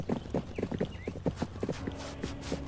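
Horse hooves clip-clop at a walk in the medieval game 1428: Shadows over Silesia, a steady run of close, crisp hoofbeats over a low background hum; no one speaks.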